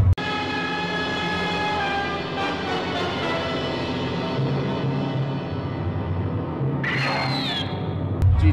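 A loud modified Nissan GT-R, the 'Godzilla', roars at a car show, its exhaust holding a sustained, droning tone for several seconds before a sharp, rising burst of revs near the end.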